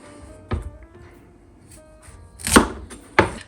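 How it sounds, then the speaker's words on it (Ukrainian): A zucchini is rubbed over a fine grater in a few separate rasping strokes, loud and close, with quiet pauses between them and a faint steady hum underneath. "Та тру кабачок на дрібній терці"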